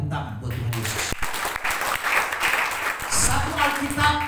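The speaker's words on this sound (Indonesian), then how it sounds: "Beri tepuk tangan buat Tuhan Yesus" A church congregation breaks into sustained clapping during a sermon, a broad, steady patter of many hands that fills the room after a brief voice at the start.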